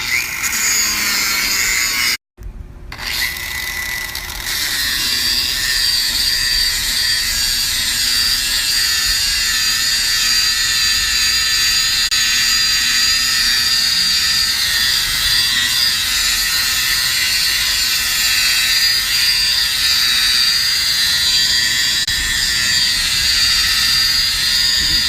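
A drill fitted with a sanding pad runs at about 1500 RPM against a plastic car headlight, a loud, steady high-pitched whir that holds constant throughout after a brief cut-out near the start.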